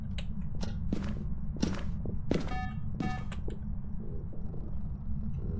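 A few soft, crunchy ghost footsteps in the video game Phasmophobia come at an uneven pace over a constant low rumbling hum.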